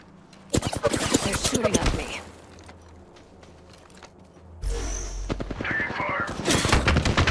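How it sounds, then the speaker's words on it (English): Rapid bursts of automatic gunfire in the Apex Legends arena mode, loud and close, with dense rattling volleys at the start and again near the end and a quieter gap between. "They're firing on me."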